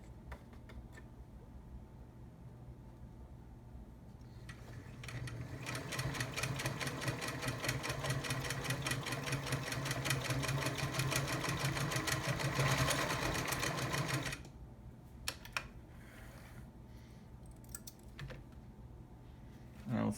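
A vintage Singer Stylist 513 sewing machine sews a zigzag stitch, its fast, rhythmic mechanical chatter rising loud and close for roughly ten seconds, then cutting off to quiet handling clicks.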